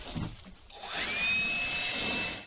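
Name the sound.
blower blowing off timber frame solar mount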